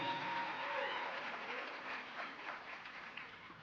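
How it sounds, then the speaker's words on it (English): Conference audience at a Nairobi health science event applauding as presenters leave the stage, a soft, diffuse wash of clapping that tapers slightly toward the end. "Let's give them a hand of applause as they leave the stage kindly."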